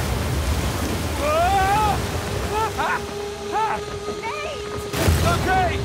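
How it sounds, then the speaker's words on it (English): A waterfall in the Uncharted 4 video game gives off a steady, loud rushing roar of water, while voices shout and call out over the top of it. "Waterfall!"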